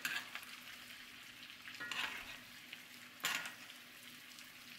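Salmon fillet basting in a pan with lemon juice, garlic and butter, a soft steady sizzle with a few louder spoon-splashing bursts as liquid is ladled over, close and faint, no voices.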